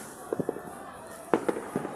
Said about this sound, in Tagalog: Ang dami-dami kong nakikita ng fireworks.